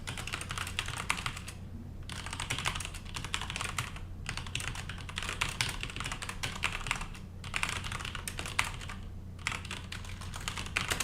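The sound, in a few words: typing on a computer keyboard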